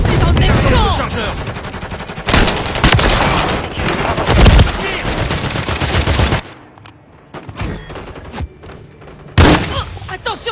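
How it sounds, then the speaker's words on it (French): Bursts of automatic gunfire and explosions crackle through a French-language first-person shooter match, heavy rapid volleys alternating with brief quieter gaps, with players talking over the action. "Oh, attention, tu tires!"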